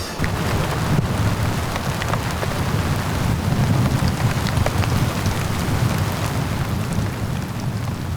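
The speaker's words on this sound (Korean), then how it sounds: "비가 내립니다." Steady, dense rainfall hisses and patters across open desert in the Empty Quarter of Arabia, an even wash of sound with no voices.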